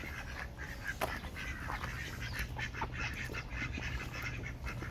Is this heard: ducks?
yes